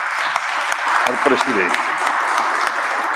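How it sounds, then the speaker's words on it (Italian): Audience applause at the presentation of the Parco del Mare in Trieste, a steady broadband wash of clapping that continues beneath a voice speaking over it. "E facciamo un applauso"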